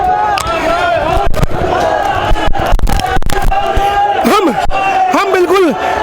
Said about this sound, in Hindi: आप देख सकते हैं कि जो युवाओं की भीड़ है वो चंद कदमों की दूरी पर आ गई है।